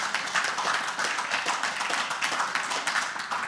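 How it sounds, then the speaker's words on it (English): Clapping from a church congregation during a service, a steady, fairly loud spread of hands clapping together with no talking over it. "can we give our online audience one big round of applause for tuning in today?"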